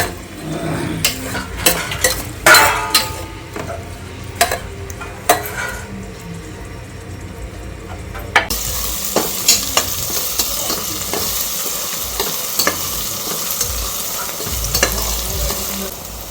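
Onions fry with salt in a pan under a steady sizzle, while a spoon stirs and scrapes against the metal in repeated clinks throughout.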